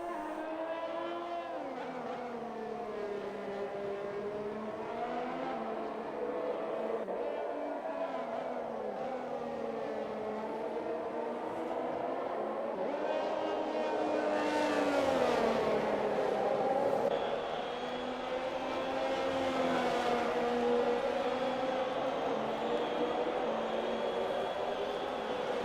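Sim racing cars circling the Hungaroring in a game race, multiple engine tones rising and falling in pitch continuously, with a steady loud drone and a sharper high whine joining partway through.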